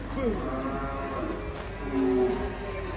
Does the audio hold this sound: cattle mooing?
yes